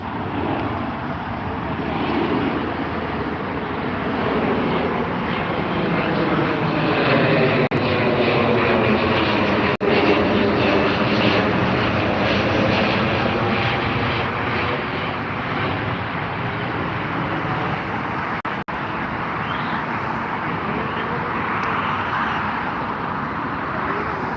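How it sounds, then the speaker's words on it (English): A Boeing 787 Dreamliner or 777 airliner taxiing toward the runway at Heathrow, its engines a loud, steady roar close by that swells slightly midway, no speech over it. "It is either a Dreamliner or a 777."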